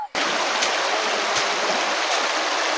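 Broadband rushing of river water pouring through a channel dammed for a Q-shaped fish trap, a steady, loud, close wash that fills the whole clip without any voices.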